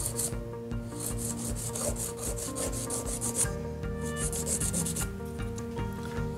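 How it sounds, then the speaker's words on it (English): Nail file scraping side to side across a gel nail to shape a sharp smile line, giving steady rhythmic rasping strokes, close and fairly quiet over a constant low background hum. "I'm always filing at a 90-degree angle,"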